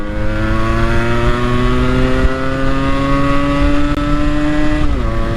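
A motorcycle engine held at high rpm during a rev-matching demonstration, a loud, steady buzzing drone with a slight pitch shift near the end, heard close and alone without talk.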